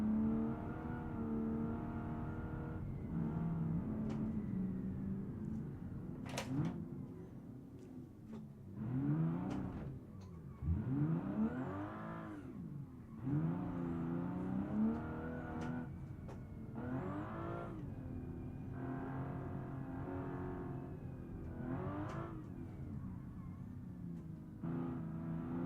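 A 1970s sports car in a racing video game revs and roars continuously, its engine pitch repeatedly climbing and dropping through gear changes as it accelerates, loud and steady over the whole run without speech.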